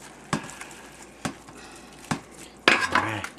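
Kimchee ingredients being stirred and mixed, giving a few sharp utensil knocks and scrapes at irregular intervals, ending in a louder burst of clattering and rubbing, close and fairly quiet with no talking.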